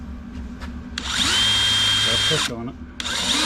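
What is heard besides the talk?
drilling a hole through a battery box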